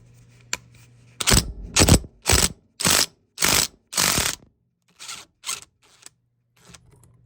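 Impact driver hammering a Zip Seat Extractor to pull out a seat, six loud close rattling bursts in quick succession followed by two shorter, fainter bursts and light mechanical clicks.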